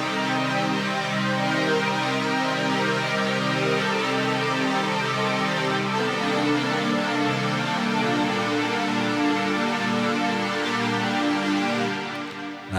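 Sustained synth pad patch with a modulated delay: a thick, even, continuous chord wash holding steady at full level for about twelve seconds before a brief fade.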